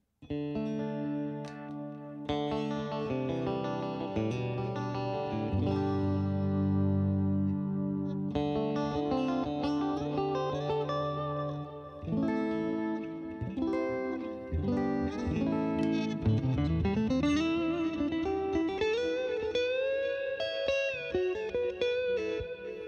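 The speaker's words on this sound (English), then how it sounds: "a patch I created with a Mesa Lone Star and Twin Reverb together" An electric guitar through an Axe-FX II modeler, on a clean patch blending Mesa Lone Star and Twin Reverb amps, plays sustained chords and single notes with a slide up, clean toned with shimmering chorus and echo, no voices.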